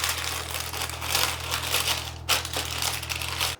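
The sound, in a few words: baking paper folded tightly into a cake ring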